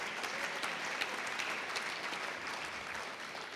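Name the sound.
audience applause for sponsors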